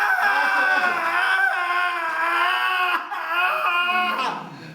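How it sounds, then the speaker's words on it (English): An actor playing a zombie victim on a film set screams in long, strained, wavering cries for several seconds, loud and close, with the pitch rising and cracking as the struggle goes on. "starts screaming and struggling."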